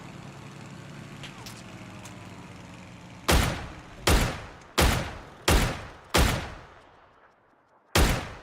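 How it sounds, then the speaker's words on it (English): Six sharp gunshots from PUBG players ring out in a loose sequence, each loud crack trailing off in echo, following a quieter stretch of game ambience. "I love that there's just all these players shooting at me."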